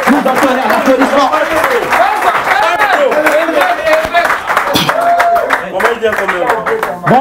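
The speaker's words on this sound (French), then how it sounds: "Nous entendons l'applaudissement." A comedy club crowd applauds in a steady wash of clapping, with voices and cheers mixed through it at full volume.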